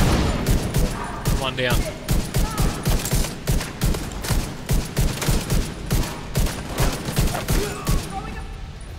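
A deployed turret in Far Cry Primal fires steady, rhythmic bursts of loud gunfire that repeat throughout. Someone talks briefly over the shots.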